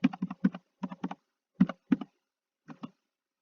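Short bursts of typing on a computer keyboard as a chart title is entered, crisp clustered clicks with brief pauses between groups, close and alone in a quiet room.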